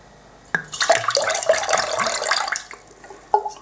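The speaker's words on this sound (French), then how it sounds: "ودوكا ندير l'eau de fleur d'oranger شويه مزهر" Orange blossom water poured into crepe batter, a close, splashy trickle of liquid starting abruptly and running for about two seconds before tapering off, then a brief final splash.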